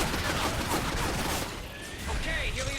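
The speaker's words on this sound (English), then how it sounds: "And there goes a full shotgun to the face." Shotgun blasts and gunfire bursts in the video game Evolve, loud and dense over continuous in-game action noise, with a chaotic fusillade in the first half easing briefly before more effects return.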